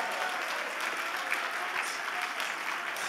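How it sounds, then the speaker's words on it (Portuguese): A church congregation claps in a dense, steady burst of applause, fairly close and even throughout, with a faint murmur of voices mixed in. "Pode dar um aplauso bem forte a Jesus."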